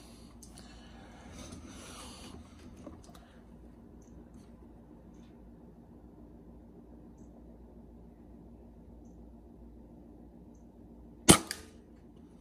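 A regulated .177 Benjamin Maximus air rifle, rested on a windowsill, fires a single sharp crack near the end of a quiet backyard stretch during accuracy testing; faint low background hum fills the rest.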